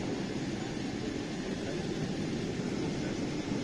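An Emirates airliner rolls along the runway at Chennai airport, heard as a steady, broad jet roar and rumble that holds constant throughout with no talking.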